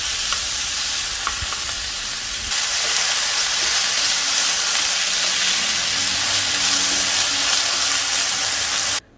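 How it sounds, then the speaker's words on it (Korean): Marinated meat stir-frying in a hot pan for spicy japchae with flat glass noodles, a steady loud sizzle and hiss that intensifies after a few seconds, with occasional stirring clicks, no talking. "밑간을 해놓고 고기를 밑간이 잘 되면 넣고 볶아주세요"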